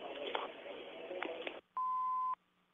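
A single steady electronic answering machine beep sounds right after the voicemail greeting, clear and alone on a quiet phone line, following a stretch of muffled phone-line hiss.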